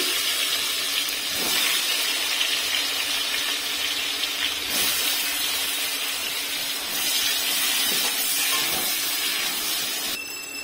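Prawns frying in hot oil in a pan, a loud, continuous hissing sizzle close up that swells and eases a few times, with no voices.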